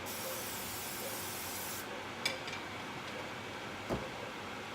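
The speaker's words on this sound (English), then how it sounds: "I'll go ahead and spray that with Pam." A steady hiss of Pam cooking spray onto a hot pan runs for a couple of seconds, then cuts off, followed by faint ticks and a soft clatter.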